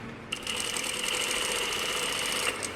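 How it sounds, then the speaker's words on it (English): A sewing machine runs a steady, fast stitching whir for about two seconds while sewing along the overlocked seam of a button-up shirt, starting and stopping abruptly. "So now we just sew right in the middle of the overlocking"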